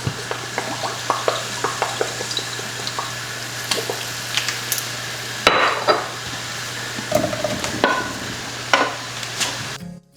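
Food stir-frying with sesame oil and soy sauce in a pan on the stove, a steady sizzle under scraping and stirring clatter, close and fairly loud, with a few sharper utensil knocks.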